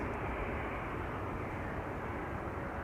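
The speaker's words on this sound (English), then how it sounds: "Atlas Air graciously arriving here." An Atlas Air cargo plane arriving at Schiphol Airport gives a steady broadband jet engine roar, moderately loud and constant across the clip, with no voices.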